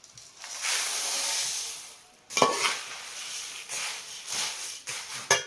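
Two spoons of chili powder stirred into hot oil in a pan with the stove switched off, for spicy puffed rice: intermittent close bursts of sizzling hiss with stirring scrapes between them.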